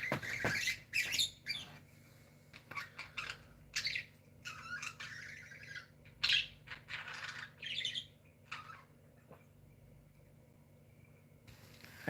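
Pet birds in a room chirping and squawking in scattered bursts, some loud and harsh, others softer tweets, with quiet stretches between and no speech.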